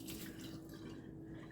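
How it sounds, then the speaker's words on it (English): Water draining out of a pot of cooked apples, a steady splashing pour with dripping, close and continuous for a brief moment with no talk. "today I'm just going to go ahead and drain out the water"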